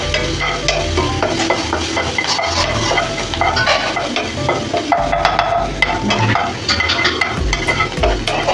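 Chili, garlic and ginger paste fries in hot oil with asafoetida for matar karanji filling, a loud continuous sizzle with brisk stirring and occasional pan scrapes, no voices.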